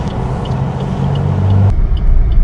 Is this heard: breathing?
no